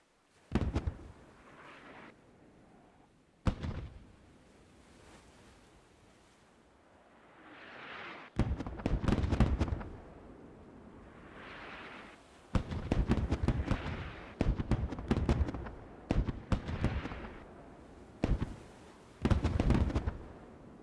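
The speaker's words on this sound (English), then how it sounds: "The smoke barrage gives your troopers a chance to attack without being blasted by droids." Smoke barrage artillery in the Galactic Contention video game, a series of sharp blasts and pops arriving in irregular clusters, some loud and close, others softer, separated by brief quiet gaps.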